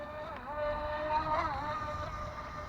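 A Feilun FT009 RC boat with a 550 brushed motor runs steadily at speed, a continuous whining motor tone with a slight pitch rise around the middle, heard from a distance over outdoor background noise.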